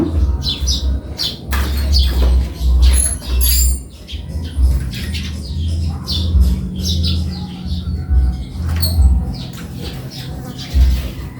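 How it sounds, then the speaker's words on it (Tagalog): Busy outdoor birdsong with scattered high chirps and tweets from several birds over a steady low rumble, fairly close and continuous. "Ang daming ibon ngayon. Kaya na pa sila maingay. Mga huni ng ibon."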